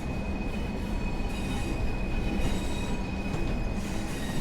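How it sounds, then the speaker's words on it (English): Persistent high wheel-flange squeal from a train in the Train Sim World 4 video game, a steady piercing tone riding over a loud rolling rumble and faint rail clatter, with no speech. "the flange squealing is just at an all-time high"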